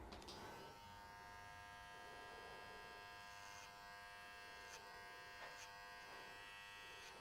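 A T-Pod electric hair clipper buzzes steadily and close while cutting hair, a constant whining hum with occasional brief scratchy bursts as it moves through the hair.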